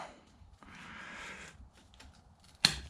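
A vacuum hose on a Jeep JKU is cut during a vacuum pump relocation, giving a quiet rustle of handling followed by one sharp, close snip near the end.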